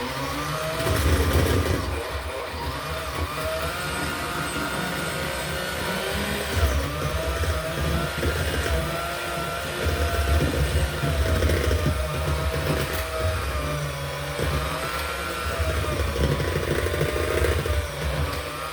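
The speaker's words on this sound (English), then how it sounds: "And then got a mixer, and we're just going to start" Electric mixer beating cream cheese and onion dip, a loud, steady motor whir close up that runs for the whole stretch with slight wavering strain as the beaters work through the thick mixture, no talking.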